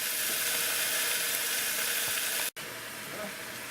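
Thinly sliced onion sizzles steadily in hot fat in an Instant Pot while beef brisket is braised in beer, a continuous close hiss and crackle with a brief cut partway through.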